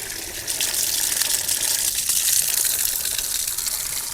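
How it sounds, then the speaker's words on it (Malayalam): Filtered water from a treatment system gushes out steadily after backwashing, a loud, even rushing flow with no voices over it. "വന്നുകൊണ്ടിരിക്കുന്ന വെള്ളമുണ്ട് ഈ കാണുന്നു."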